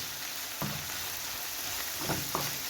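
Onion, vegetables and meat fry in a pan with a soft, continuous sizzle, punctuated by a few faint stirring scrapes and no talk.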